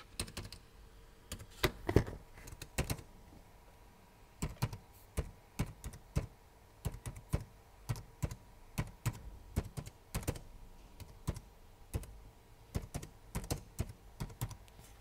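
Fingers typing a web address on a computer keyboard, with bursts of quick clicking keystrokes broken by short pauses, close and moderately loud, no talking.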